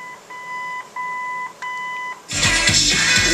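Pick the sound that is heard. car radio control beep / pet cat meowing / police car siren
car radio control beep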